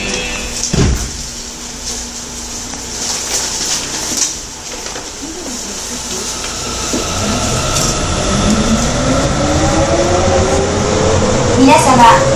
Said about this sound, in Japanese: ホームから真駒台行きが発車します。